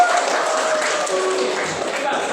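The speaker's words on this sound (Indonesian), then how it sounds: "Tepuk tangan untuk semua" A classroom of pupils applauding together for their teacher, a steady dense clapping that fills the room at close range without pause.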